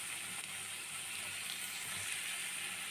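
Diced potatoes are rinsed under water for aloo posto: a steady, even hiss of running water, close and quiet, with no other sounds.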